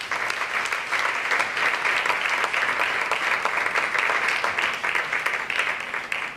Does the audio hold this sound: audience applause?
yes